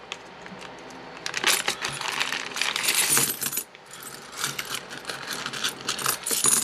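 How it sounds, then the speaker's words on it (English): Metal game coins clink and jingle repeatedly as they are poured and shaken in a soft felt bag, a busy bright rattling with a brief pause. "looks like we get a nice little felty bag to carry the coins in"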